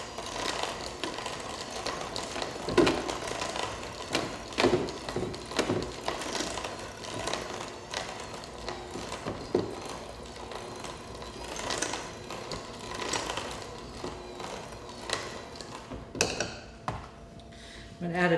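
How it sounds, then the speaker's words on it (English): An electric stand mixer runs on low, blending flour into batter with a steady mechanical whir and rhythmic clicking and rattling that carries on throughout. "I'm just going to turn my mixer on low"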